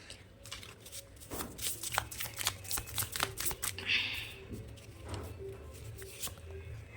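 Oracle reading cards being shuffled and drawn, a dense run of quick papery riffles and flicks followed by lighter taps and slides, close and fairly quiet, with no talking.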